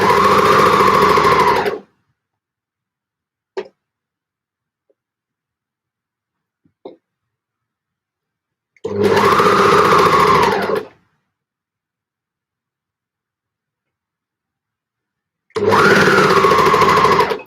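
A sewing machine stitching fabric for gable tops runs in three short, loud bursts of steady motor whir, separated by long silent pauses with only a couple of faint clicks between them.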